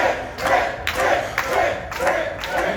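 A wrestling crowd at Waco roars and chants in rhythmic surges, loud broad waves of voices swelling roughly every half second, with thuds mixed into the noise.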